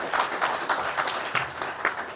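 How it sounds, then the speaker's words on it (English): An audience at the Rural Private Hospitals Association of Kenya annual convention gives a round of applause, a steady dense wash of many hands clapping with slight swells, moderately loud and without talk. "So, a better round of applause for Dr. Machonda."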